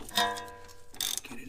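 Wrench loosening the upper control arm bolt on an Acura Integra, giving a couple of close metallic ratcheting clicks and a short resonant ring, brief and moderately quiet.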